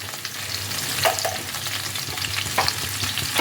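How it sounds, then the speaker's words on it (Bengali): Carrots, capsicum and beans with a pinch of salt stir-frying in a pan, a steady soft sizzle broken by repeated scraping stirs, close and alone. "এবার সবগুলোকে ভালোভাবে মিশিয়ে এগুলোকে একটা হালকাভাবে ফ্রাই করে নিতে হবে।"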